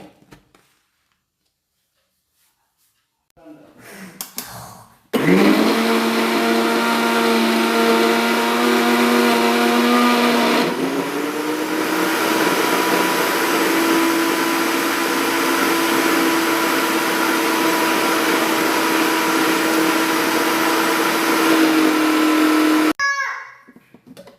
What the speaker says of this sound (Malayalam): ഇനി നന്നായി ഒന്ന് അരച്ചെടുക്കട്ടെ